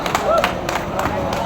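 A crowd at a gathering near Malacañang claps in scattered, uneven bursts under ongoing talk and general crowd noise, the claps fairly close and moderately loud.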